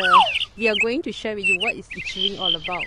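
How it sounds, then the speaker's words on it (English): Birds chirp in autumn woods, a sharp call at the start and thin tweets scattered underneath a person speaking throughout. "you hear the birds chirping"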